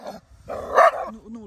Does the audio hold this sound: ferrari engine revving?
no